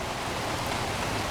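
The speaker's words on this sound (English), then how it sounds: "Been raining a little over an hour." Steady rain falls on a midafternoon in northeast Texas, a dense, even hiss of drops with no breaks, fairly loud and heard alone.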